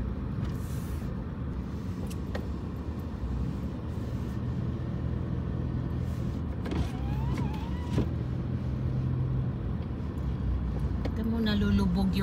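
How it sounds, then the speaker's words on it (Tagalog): A car driving slowly and carefully along a slippery snowy road gives a steady low interior rumble and road hum beneath a person talking throughout, with a brief whine near the end. "maingat yung pagdadrive kasi madulas ang snow"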